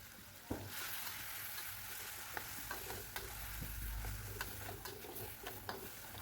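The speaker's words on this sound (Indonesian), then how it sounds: "Panaskan minyak. Kemudian masukkan bumbu tempe, bumbu sambal tempe yang udah di chopper," Chopped chili spice paste for tempeh sambal frying in hot oil, a soft steady sizzle heard at a distance, broken by occasional clicks and taps of a utensil against the pan.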